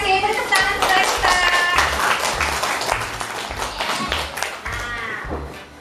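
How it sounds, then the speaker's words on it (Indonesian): Audience applause with dense clapping through most of the stretch, with people talking loudly over it; the clapping thins slightly toward the end. "Tepuk tangan untuk kita."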